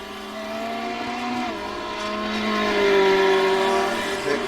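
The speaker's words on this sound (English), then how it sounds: "Coming through to start the 19th lap, and Roger Morton in the 4th place Ferrari" GT3 race cars at Road Atlanta circuit, including a Ferrari and a BMW, engines droning and rising in pitch as they accelerate past, a loud steady roar building over several seconds without talk.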